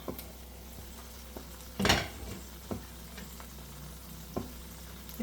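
Afghani egg curry masala being stirred in oil in a pan, with a soft steady sizzle and a few scraping stirs, one louder clattering scrape near the middle.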